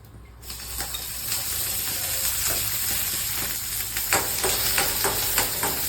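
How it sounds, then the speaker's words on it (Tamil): Small shallots and garlic sauté in oil for a Madurai-style goat intestine gravy: a hiss rises quickly into a steady, close sizzle, with scattered crackles and stirring scrapes near the end. "சின்ன வெங்காயமும் பூண்டு போட்டு நல்லா எண்ணெய் ஊற்றி வதக்கிடணும்."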